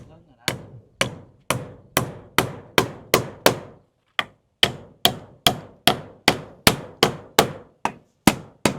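Steady hammer blows, about two per second, sharp and close, with one brief pause partway through the series.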